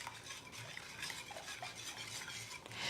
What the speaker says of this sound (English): And now I'll just give this a stir.